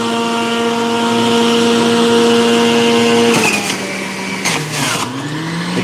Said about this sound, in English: We're gonna hit the juicer. It's gonna get a little loud, but you still should be able to hear me.